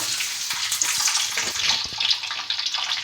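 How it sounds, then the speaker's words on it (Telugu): Mustard seeds and chopped onions sizzling in hot oil, a loud, bright, continuous hiss with frequent small crackles and spatters, close up, no talking. "ఆయిల్ వేసుకోవాలి ఇప్పుడు ఆవాలు వేసుకున్నాం ఎర్రగడ్డలు"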